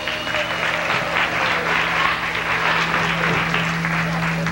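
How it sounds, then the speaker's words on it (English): Loud, steady applause from an audience welcoming a group called the Hollywood Hitmen onstage, continuous dense clapping with a low hum beneath it. "let's have a big round of applause for my posse"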